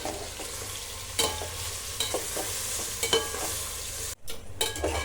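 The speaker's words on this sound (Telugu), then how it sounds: "ఇప్పుడు ఇది బాగా మిక్స్ చేసుకుందాం అండి." A chicken curry simmers and sizzles in a pan while a spoon stirs and scrapes it in irregular strokes, with a brief dropout near the end.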